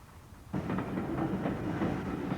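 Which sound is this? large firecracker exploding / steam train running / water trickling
steam train running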